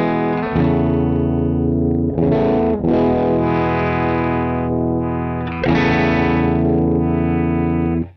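A G&L electric guitar with its treble rolled off plays sustained, distorted chords with a muffled, dark tone, several strums ringing out in turn.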